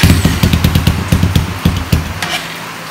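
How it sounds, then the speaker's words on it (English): Honda 300EX ATV engine being started on choke, a close, loud, rapid chugging rhythm of firing pulses that sputters unevenly and fades out toward the end. "We're going to choke it, and we're going to fire it up."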